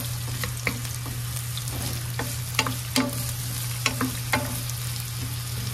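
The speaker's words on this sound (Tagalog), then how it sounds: "Tapos igisa natin yung sibuyas" Onions sautéing in a pan for Filipino humba, a steady sizzle under a low hum with scattered spoon scrapes and clinks, close and alone without talk.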